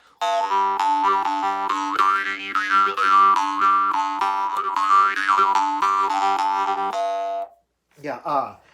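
A twangy jaw harp with a clean, hollow, dry tone plays a sustained buzzing note with shifting, wah-like overtones for several seconds, stops, then gives a short final burst.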